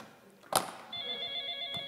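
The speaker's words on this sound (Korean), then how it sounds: "그 미스김 그 전화 받으라니까" A telephone in an office rings with a bright electronic trill beginning partway through, sustained and fairly clear, preceded by a short knock-like thump.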